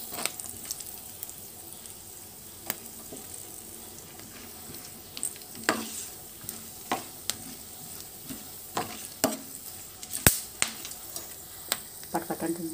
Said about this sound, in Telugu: సన్నగా చాప్ చేసుకున్న జీడిపప్పు, గోల్డ్ కలర్ వచ్చేట్టుగా వేయించుకున్నామండి.